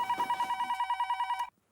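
A telephone rings in a quiet room, a rapid warbling electronic trill that repeats at a steady pulse for about a second and a half before stopping, with a faint voice near the start.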